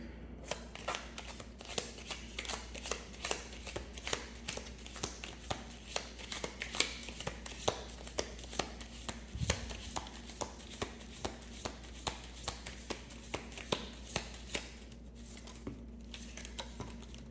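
A deck of tarot cards is shuffled steadily and close by, with quick papery riffles and soft taps repeating in an even rhythm against a quiet room hum, with no talking.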